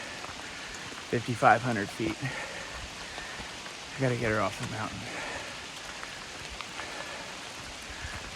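Rain falling at about 5,500 feet in the Great Smoky Mountains at night, a soft steady patter spread evenly through the clip while someone speaks briefly over it.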